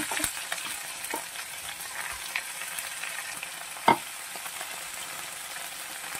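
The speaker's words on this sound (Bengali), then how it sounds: "এরপর আমি ওই সজনে ফুলগুলোকে দিয়ে দেব আলুর সাথে। ফুলগুলোকেও ভালো করে ভেজে নেব।" Drumstick flowers fry with potato pieces in a pan, making a steady close crackling sizzle with scattered soft stirring clicks and one sharper utensil knock partway through.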